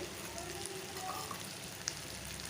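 Eggplant pieces sizzling in hot oil alongside fish in a pan, a soft, continuous frying crackle with a few faint pops, fairly quiet.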